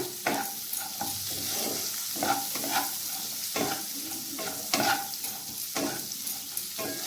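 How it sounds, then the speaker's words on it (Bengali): Finely chopped onions with a pinch of salt frying gently over low heat in a pan, a continuous sizzle broken by repeated scraping stirs of a utensil, close and without talk. "আর এরকম সাইজ করে কেটে রাখা পেঁয়াজ কুচি, আর তার সঙ্গে সামান্য পরিমাণে নুন দিয়ে দিচ্ছি। এরপর এগুলোকে হালকা করে ভেজে নিতে হবে।"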